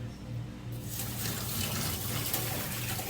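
Around 2000 cc of water pours steadily into a container of coarse red salt for kimchi brine, a continuous close rushing splash that rises in fullness partway through and continues without a break.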